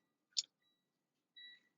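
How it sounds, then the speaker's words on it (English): A quiet electronic dashboard alert in a 2007 Freightliner M2 garbage truck with a no-crank fault: a short click, then a brief high tone, then a longer two-pitch beep in near silence. "So we got something beeping on the dash when I unplug the second one"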